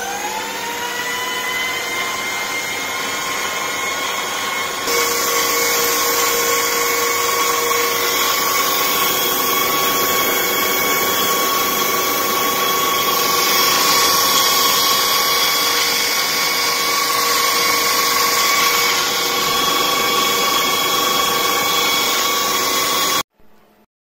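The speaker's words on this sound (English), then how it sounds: "I'm going to run the motor to run the drill machine" An electric drill machine driven by a motor runs continuously at steady speed, a loud whining hum with a constant pitch that briefly shifts partway through and stops abruptly at the end.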